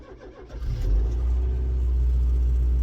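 A Ford Pinto engine cranks briefly and then catches after sitting unused for three weeks, settling into a loud, steady low rumble close by.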